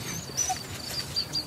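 Wolves call in the Portuguese wild, giving thin high whimpering and yelping cries in brief bursts over a faint ambient background.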